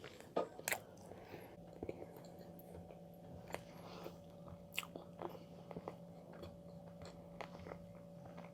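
Someone bites and chews a Korean chocolate bread loaf close to the mic, soft irregular crunches and mouth sounds over a faint steady hum, quiet and without talking.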